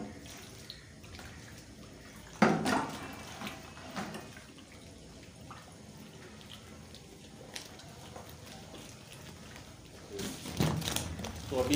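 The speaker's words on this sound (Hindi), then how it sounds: "तो थोड़ा सा पानी दोबारा शामिल कर देंगे।" Water poured into a gulab jamun dough mixture of semolina, soda and powder, a short splashing pour near the start and another toward the end, with people talking between.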